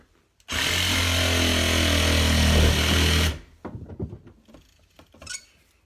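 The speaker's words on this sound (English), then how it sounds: "Now time for the Sawzall for the exterior wall." A Sawzall reciprocating saw cuts through a house's exterior wall and siding, a loud, steady, close buzzing roar lasting about three seconds before stopping abruptly, followed by quieter scattered clatter and knocking.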